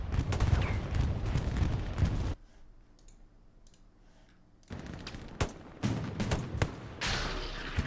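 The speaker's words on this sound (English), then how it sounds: "Bombing run comes in," Bombing-run explosions in Hell Let Loose on the Stalingrad map, dense crashing blasts and crackling gunfire that cut out abruptly into a quiet lull, then return as repeated heavy impacts.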